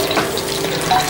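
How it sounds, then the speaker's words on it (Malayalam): Curry leaves spluttering in hot oil for a chicken curry, a steady dense crackle and sizzle close by with no talking, holding an even level throughout. "കറിവേപ്പിലയൊക്കെ പൊട്ടിക്കഴിഞ്ഞാൽ"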